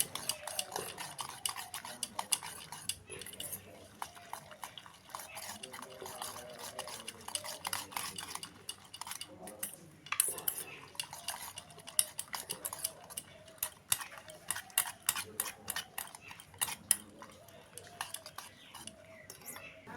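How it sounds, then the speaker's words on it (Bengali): Ingredients being mixed by hand in a bowl for a Maggi noodle and egg snack, with steady scraping, clinking and soft mushy squelches repeating close up, no speech. "এবারে সব কিছু উপকরণ এইভাবে ভালো করে মিশিয়ে নেব।"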